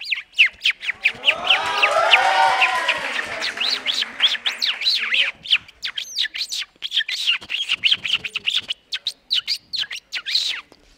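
A voice imitates birds chirping at an open mic, with a dense warbling trill at first and then a rapid run of sharp, high tweets and whistles, loud and close.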